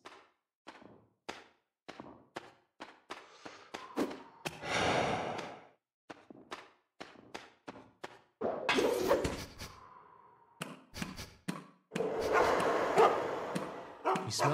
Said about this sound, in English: Steer clear of the dogs. They can sniff you out even in the darkness.